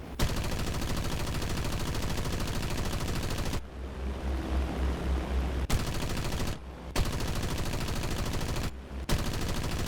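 Rapid machine gun bursts from the defensive guns of a TB-3M bomber in War Thunder, long sustained strings of fire broken by a few short pauses, loud and with no talking.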